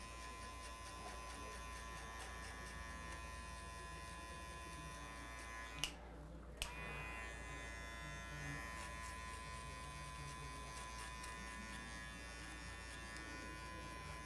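Electric hair clipper running steadily while cutting a fade, with the guard setting opened wider on the upper part of the head; a close, continuous buzz with two brief dropouts near the middle, no talking.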